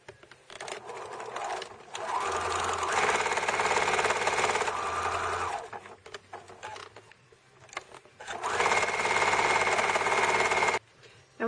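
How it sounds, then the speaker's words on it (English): Close sewing machine whirs in two sustained runs, stitching one short and one long side of a small fabric pin cushion scrap bag, with a quiet break of handling between them. "Now we're going to stitch 1 short side and 1 long side."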